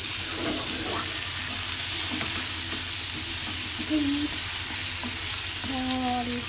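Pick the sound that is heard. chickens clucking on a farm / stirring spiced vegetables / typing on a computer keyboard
stirring spiced vegetables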